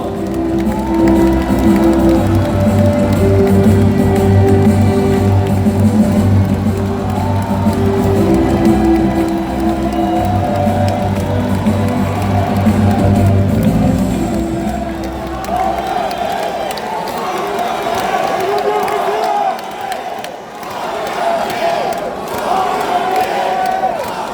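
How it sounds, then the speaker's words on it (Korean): Crowd at a Democratic Party convention in Gwangju, South Korea, applauds and cheers loudly for about fifteen seconds, then shouts and whoops continue over an announcer's voice. "여러분 박수 부탁드립니다"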